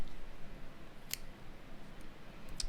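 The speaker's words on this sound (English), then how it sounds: "and cut your yarn tail" Scissors cut a tail of chunky knitting yarn with a couple of quick, crisp snips close by, over quiet room noise.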